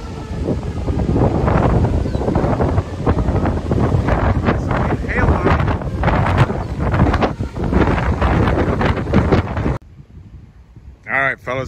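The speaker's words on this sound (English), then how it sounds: "we're still fighting the weather here. We got winds blasting." Strong wind blasts across an outdoor microphone in a continuous loud roaring buffet, rising and falling in gusts before cutting off abruptly near the end, with voices partly heard under the rumble.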